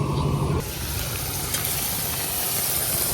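Spice paste of dried chili powder and salt fries in hot oil, a constant rushing sizzle that holds steady and close throughout after a brief louder opening, with no talking.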